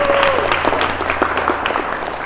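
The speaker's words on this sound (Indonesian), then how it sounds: "Tepuk tangan untuk kelompok 3." Classroom applause for a student group during a teacher-training lesson, a steady wash of many hands clapping close by for a couple of seconds, with a faint tone at the start.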